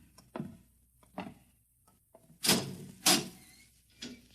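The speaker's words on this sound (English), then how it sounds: "Here's the door." Wooden door sounds from an old radio drama, a series of separate knocks and creaks followed by two louder bursts near the middle, alone in a quiet dark setting.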